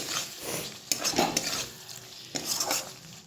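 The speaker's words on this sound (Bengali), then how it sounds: "এবার এর মধ্যে ভেজে রাখা আলুগুলো প্রথমে দিয়ে দিচ্ছি একটু মিশিয়ে নিচ্ছি" A ladle scrapes and clinks against a pan as fried potatoes are stirred into a fish curry made with catla fish, giving two short bursts of stirring over a soft sizzle.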